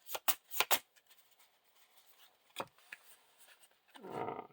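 Playing cards are shuffled up close: several quick riffling bursts at the start, then sparse soft card sounds, ending in a longer rustling shuffle.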